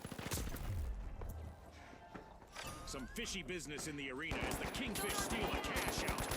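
Rapid bursts of gunfire crackle in the shooter game The Finals, repeated volleys of quick shots with footsteps, mixed with excited voices talking and shouting throughout.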